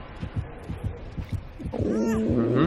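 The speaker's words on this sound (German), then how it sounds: "bei mir habe ich Herzklopfen, also nicht zu mir kommen gerade" Heartbeat warning of an approaching killer in Dead by Daylight, a deep thumping pulse repeating steadily, then joined by a loud rising growl and hum as the sound swells.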